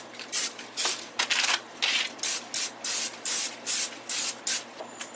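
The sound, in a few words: cooking spray sprayed on meal prep vegetables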